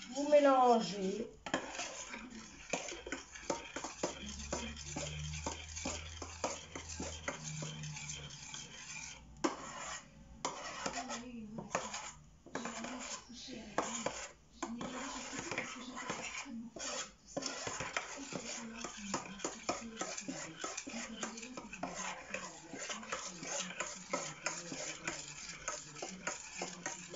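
Brioche dough ingredients mixed by hand in a bowl, with steady scraping and clinking against the bowl and frequent short rubbing strokes. Close and continuous, with a few brief pauses.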